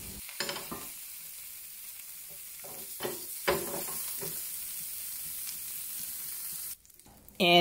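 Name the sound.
tofu pan frying in cast iron pan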